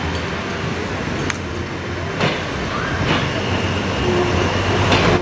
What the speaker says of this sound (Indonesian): Ini ada kereta api.